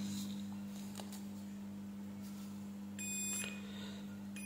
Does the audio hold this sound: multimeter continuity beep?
yes